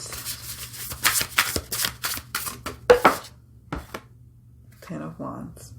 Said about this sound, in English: Okay, so we shuffle that.